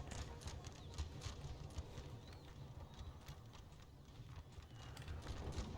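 Horse hooves clip-clop on the battlefield in the Napoleon: Total War game, a faint, even rhythm of repeated hoofbeats over a soft background murmur.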